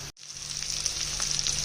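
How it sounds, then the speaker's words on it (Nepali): Pork curry spiced with chilli powder, meat masala and garam masala sizzles and crackles steadily in a pan after a brief pause at the start, with no talking. "यसलाई मजाले भुट्ने"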